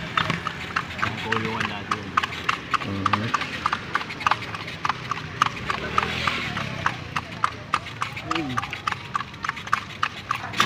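Horse hooves clip-clop steadily on pavement while pulling a kalesa carriage through the streets of Manila toward Fort Santiago, a close, regular rhythm of clear hoofbeats with people chatting nearby.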